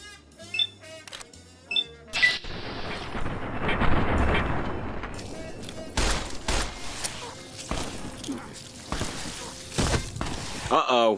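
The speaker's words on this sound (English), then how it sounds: "Did not mean to throw a grenade." Grenade blast in Fallout: New Vegas, a loud burst around two seconds in followed by a long rumbling, crackling decay, with scattered gunfire-like impacts and a voice talking over the game.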